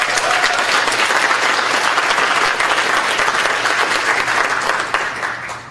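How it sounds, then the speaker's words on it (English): An audience at a power training event gives a dense, sustained round of applause for two people, even and loud throughout before easing slightly at the end. "So give Richard and Mary a round of applause."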